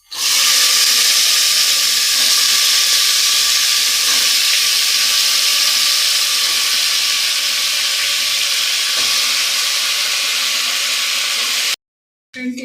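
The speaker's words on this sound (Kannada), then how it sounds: "ಈಗ ಕಟ್ ಮಾಡ್ಕೊಂಡಿರೋ ಮೂಲಂಗಿ ಸೇರಿಸ್ಕೊತಾ ಇದ್ದೀನಿ" Chopped radish sizzling in hot oil in a pan after the onions have fried, a steady, loud broadband frying hiss that runs almost unbroken to the end, with no talking.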